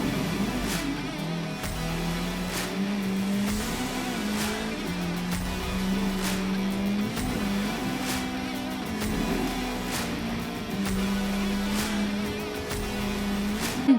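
A buggy's engine drones steadily as it hops across sand dunes in a racing video game, the pitch rising and falling with repeated revs and faint tire noise, loud and continuous.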